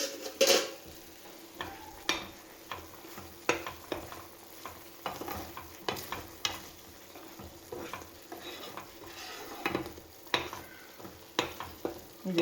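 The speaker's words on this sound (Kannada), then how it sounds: "ಈಗ ಇದಕ್ಕೆ ನಾವು ಕರಿಬೇವಿನ ಸೊಪ್ಪು ಸೇರಿಸೋಣ." Curry leaves and prawn masala fry in ghee, giving a soft continuous sizzle under repeated stirring scrapes and metallic spoon clinks against the pan, close and moderately quiet, with no talking.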